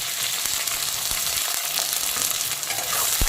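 Chopped onion hits hot oil already frying with whole cumin and whole garam masala, giving a loud, continuous sizzle with faint stirring clicks throughout.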